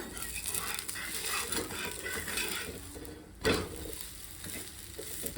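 Semolina rotti being turned over on a hot griddle pan, with steady broadband sizzling throughout and one louder scraping clatter near the middle as the flatbread is flipped.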